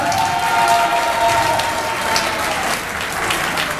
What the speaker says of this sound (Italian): Tutti quanti un applauso a Peppino e Felicia!